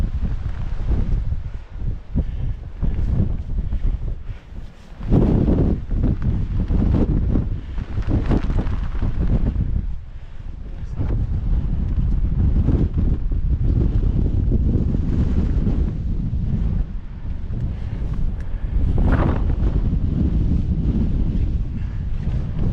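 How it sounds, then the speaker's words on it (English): Strong force 8 gale buffets the microphone on the cliffs at Migra l-Ferha, Malta, a loud, continuous roar with heavy low rumble and gusty surges, no voices. "the wind will be stronger and I don't want it to push me out of the cliffs"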